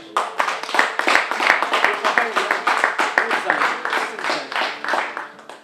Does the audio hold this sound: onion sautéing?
no